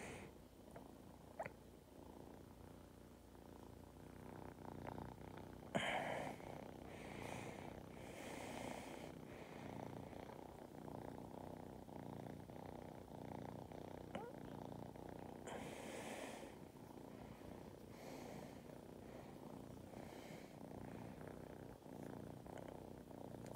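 A cat purrs softly and steadily, close but faint, with a low continuous rumble and occasional brief louder bumps in the background.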